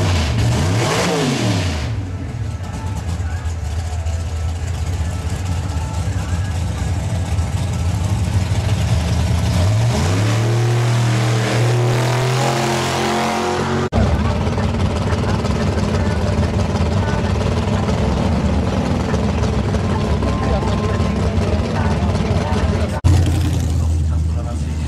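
Škoda 130 RS race car with an overnight-rebuilt engine running on E85, revving loudly and rising and falling in pitch, with a continuous engine roar and talk running over it.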